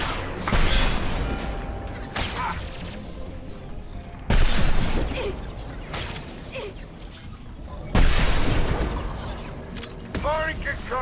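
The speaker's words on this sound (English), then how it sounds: "Firing concussive shot." Concussive Shot power firing in Mass Effect 2 Legendary Edition on Omega, sharp impact blasts recurring every few seconds amid ongoing combat gunfire and mechanical clatter.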